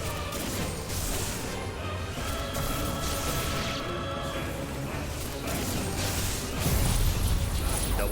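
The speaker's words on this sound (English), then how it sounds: "Double Judgment Bolt." The Double Judgment Bolt attack in Final Fantasy XVI sounds as a dense, loud wash of crackling electrical bursts and crashes, continuous throughout, with a heavier low surge near the end and game effects layered together.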